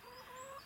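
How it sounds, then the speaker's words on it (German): A single hen, partly lame, gives a brief, soft, close cluck in a quiet setting, with no voices. "Darf ich vorstellen, das ist mein Huhn."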